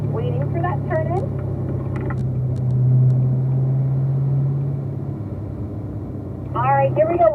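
A race car engine drones and rumbles loudly and close as it powers around a racetrack, swelling under throttle, with someone talking over it at the start and end.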